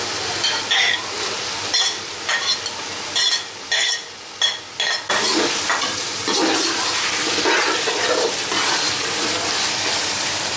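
Chopped onions tipped into hot oil for beef shashlik, sizzling loudly and steadily while a spoon scrapes and stirs through them. Intermittent clatter comes first, then a continuous bright frying hiss takes over.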